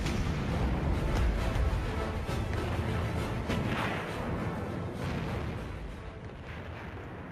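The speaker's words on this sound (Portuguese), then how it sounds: "Este filme alemão mostra os enormes canhões de 381 milímetros do Bismarck disparando contra o Hood" The German battleship Bismarck's 381 mm naval guns fire at HMS Hood during a battle, heard as heavy, sustained booming with rolling low rumble throughout, loud and unbroken by speech.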